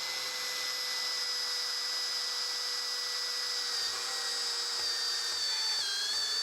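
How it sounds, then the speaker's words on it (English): A cordless drill fitted with a 12mm step bit bores through a 10mm plate, a steady high-pitched whine with a faint grinding edge that holds throughout and wavers slightly near the end as the bit breaks through. "So I'll just put this straight through a 10mm plate. This is in a cordless drill,"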